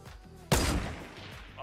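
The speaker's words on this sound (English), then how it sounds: "they're fighting another guy with a shotgun" A single sharp shotgun blast in Fortnite cracks out loudly mid-moment, with a short decaying tail over faint background sound.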